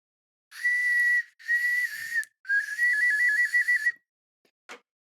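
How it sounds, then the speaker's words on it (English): A hand-blown whistle sounds three times in a row, each blast lasting about a second, the last one warbling up and down, followed by a faint short noise; clear and close with no talk. "I'm gonna get the whistle out"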